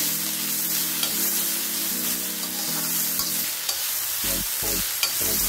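Chopped capsicum, tomato and corn are stirred in a hot pan for a wheat-flour sandwich filling. A steady sizzle runs under a low hum, then rhythmic scraping strokes of the spoon come close and clear.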